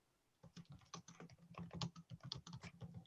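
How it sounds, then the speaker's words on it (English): Rapid, irregular clicking of keys on a computer keyboard, close and fairly quiet, starting after a brief silence and running steadily with no voices. "I'm typing just so you know your guys' answers."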